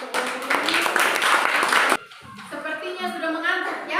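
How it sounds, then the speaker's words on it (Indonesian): An audience claps for a presenter in a classroom setting, a dense burst of applause lasting about two seconds before cutting off; a voice speaks afterward. "Tepuk tangan untuk Yuni"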